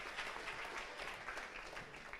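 A church congregation claps for the Lord after a prayer, a dense, steady patter of many hands at moderate distance, fairly quiet and continuous for a couple of seconds with no talk over it.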